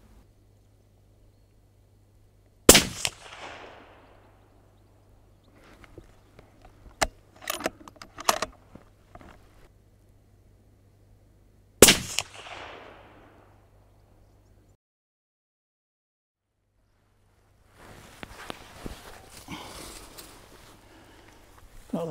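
A rifle fires at a paper target during a buck stalk in Ayrshire: two sharp, loud cracks about nine seconds apart, each with a short ringing tail, with quieter handling clatter between and after.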